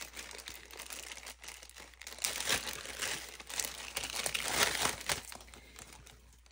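A plastic Ziploc bag crinkles and crackles steadily as it is handled during an unboxing of small craft items, with louder bursts of rustling in the middle and no talking.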